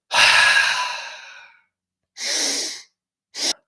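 Forceful breathwork exhales through the mouth during training for mountain athletes, three breathy rushes of air, a long one, a shorter one, then a brief final puff, close and loud with silence between.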